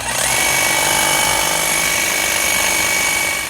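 Husqvarna battery-powered hedge trimmer running steadily at full speed, a loud continuous high-pitched motor whine with blade chatter, close and alone.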